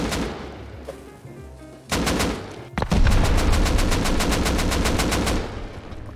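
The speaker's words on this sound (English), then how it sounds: "We could just shoot it." Rapid gunfire in a video game: a short burst, a pause, then a long run of evenly spaced automatic shots, loud and dominant, with no voices over it.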